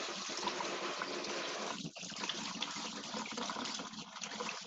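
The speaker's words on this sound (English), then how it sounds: "then I will wash my hands" Hands are washed under a running kitchen tap, a steady, faint rush of water with slight splashing changes, continuous and without talking.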